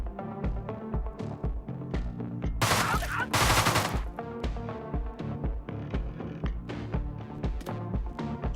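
Derringer pistol shots in the game Deadbolt ring out over a rhythmic, driving music track, with a loud burst of noisy blasts in the middle and scattered sharp hits throughout.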